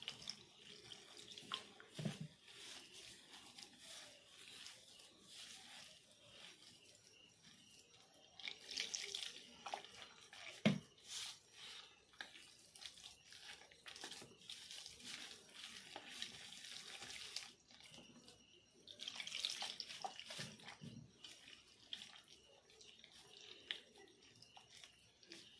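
Water poured in small amounts into a mix of rice flour and egg to make a batter, with faint splashing and trickling in several short bursts, fairly quiet and without talk.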